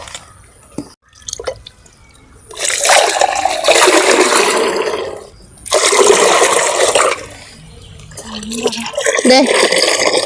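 Water pours in several bursts into a container for watering okra plants, a splashing, gushing stream that stops and starts, with brief pauses between pours.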